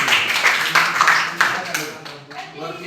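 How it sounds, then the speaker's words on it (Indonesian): A classroom audience claps for a presenting group, scattered hand claps that thin out over a few seconds, with voices talking over them. "beri tepuk tangan dulu untuk kelompok ini"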